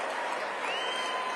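A crowd at a political event cheers and applauds in a dense, continuous burst, steady in level over a short moment, with no clear speech.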